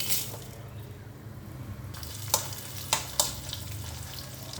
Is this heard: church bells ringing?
no